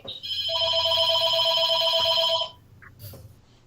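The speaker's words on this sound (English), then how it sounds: "I have no clue whose phone that is, but Unfortunately, that's mine." A telephone rings during a fire board meeting: a loud, close electronic ringing tone held for about two seconds, then it cuts off, leaving faint room noise and a brief small sound afterward.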